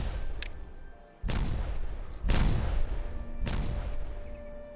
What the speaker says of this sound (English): these explosives are actually all done. So let's detonate these